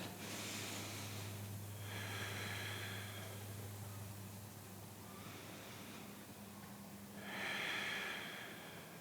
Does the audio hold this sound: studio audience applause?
no